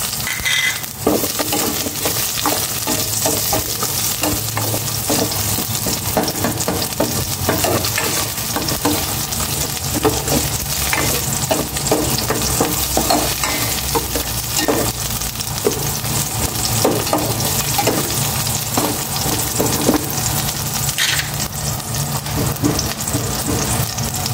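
Onion sautés in a pan for pork adobo, a continuous busy sizzle and crackle with frequent spatula stirring and scraping, loud and close throughout with no voices.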